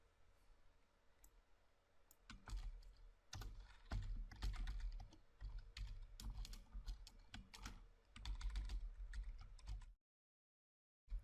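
Code being typed on a computer keyboard: steady runs of close, crisp key clicks with brief pauses, ending in a short silence and one last tap.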